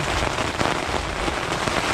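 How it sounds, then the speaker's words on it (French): Heavy rain hammers a tent during a thunderstorm on a hike across the Alps, a dense, continuous patter of drops on fabric with no pauses and no voices. "Première fois que je me retrouve dans une situation où l'eau s'infiltre dans la tente. Là on voit vraiment les gouttes qui tombent."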